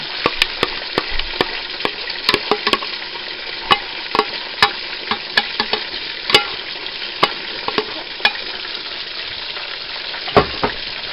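Wilted spinach being stirred together with sauce in a pan, a steady soft sizzle broken by a string of sharp utensil clicks and scrapes at irregular intervals, close and alone.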